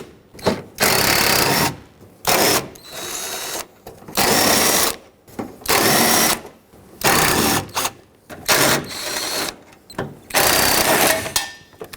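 Ratcheting wrench or power tool working loose 10mm bolts from the battery tray of a 2007-2014 Chevrolet Silverado 2500HD, in repeated bursts of about a second each separated by short pauses, loud and close.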